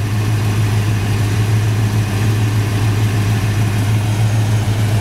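A 1985 Ford Mustang GT Fox Body with a 5.0 engine and five-speed idles steadily, a loud, close, low rumbling drone with no change in rhythm.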